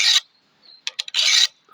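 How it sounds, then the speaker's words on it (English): A round file rasps along the edge of a gardening tool during sharpening: two bursts of gritty filing strokes, with a few short scraping touches between them, close and fairly loud, with no talk. "a round file is really good because it just follows"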